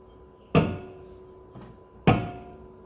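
Two sharp metallic taps land about a second and a half apart on the rear brake disc of a Ford Focus RS mk3, knocking it loose, with a fainter knock between them and a steady high whine behind.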